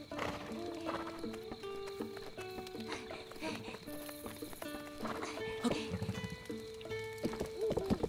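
Horse hooves clip-clopping at a run in The Legend of Zelda: Breath of the Wild, a steady rhythmic beat under game music with a voice speaking over it.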